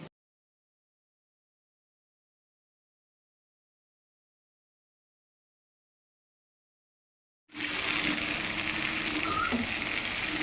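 Potatoes sizzle in a pan, a steady close crackle of frying that starts abruptly after a long stretch of silence and keeps going to the end.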